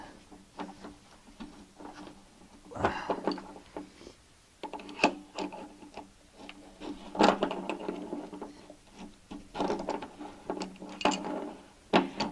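A screwdriver scrapes, clicks and rasps in irregular bursts while loosening a water heater heating element, sounding close but fairly faint.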